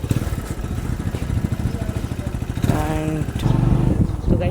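A motorcycle ridden toward a farm, its engine chugging in a close, rapid, steady pulse that roughens and rises slightly near the end.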